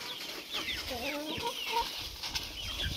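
On a Maharashtra farm, Aseel fowl, a big rooster with two or three hens, give a run of rising, tonal clucks near the middle, then scattered softer calls and faint low rustling.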